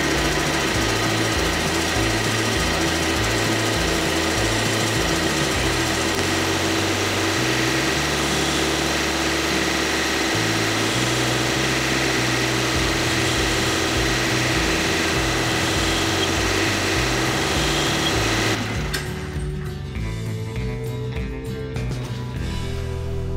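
Machine running as a lathe turns down quarter-inch brass rod for fly rod snake guides, a loud, continuous chattering whir with a rhythmic pulsing underneath that shifts pitch near the end.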